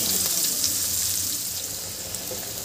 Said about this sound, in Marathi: आणि हे छान परतून घ्यायचं आपल्याला. कांदे छान होऊ द्यायचे आहे.